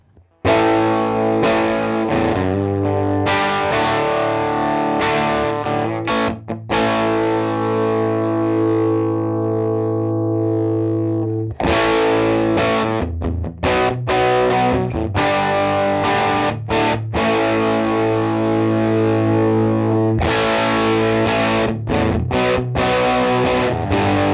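Distorted electric guitar played loud through a Woodrow 55 Tweed Deluxe tube amp into a Vox AC30 cabinet, sustained overdriven chords and riffs with a crunchy, slightly roomy tone, no talking.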